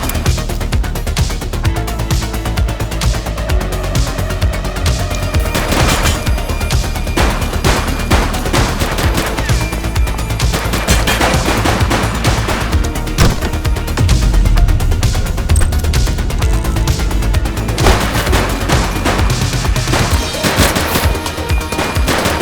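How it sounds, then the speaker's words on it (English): Dense, loud automatic gunfire with rapid machine-gun bursts and overlapping shots rattles continuously in The Precinct police video game. No one speaks. "Shots fired!"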